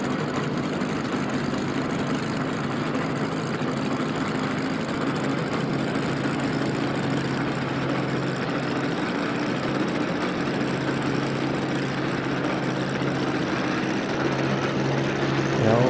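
A small propeller plane on an airstrip gives a steady, loud engine drone that builds slightly toward the end as the throttle opens, with no voices over it.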